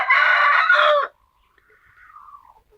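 A rooster crows loudly and close by for about a second, then a fainter, shorter call trails off. No voices are heard.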